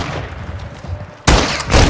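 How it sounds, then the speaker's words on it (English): Burst of gunfire in Call of Duty: Modern Warfare 2, a sudden loud volley cutting in after a low, busy game-ambience bed and carrying on to the end. "Oh, the bullets came from the other way!"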